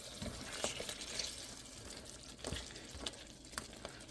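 Beef cooking dry in a pot without added water, stirred now and then, gives soft scraping and faint sizzling with occasional clinks of the spoon, quiet and close.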